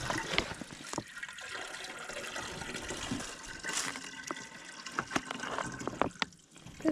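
Maple sap pours steadily from a tap into a bucket at a woodland sugar bush, a soft running trickle with scattered drips and splashes, fairly quiet and close.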